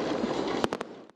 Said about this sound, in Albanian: momenti i ndrimit të viteve është shoqëruar me spektakël fishek zjarresh